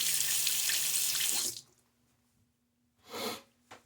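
A bathroom tap runs steadily for a rinse during a wet shave, then cuts off, followed by a short splash of water on the face and a faint drip, close by with no speech.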